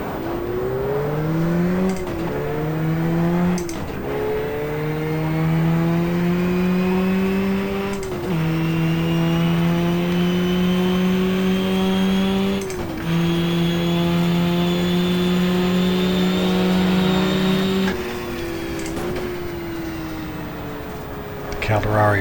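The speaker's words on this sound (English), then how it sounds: "Calderari Brenner Porsche coming out of the pits" Porsche race car engine in the GTR2 racing video game at Suzuka, a loud steady drone that climbs in pitch through each gear, with quick drops at shifts as the car pulls away from the pits.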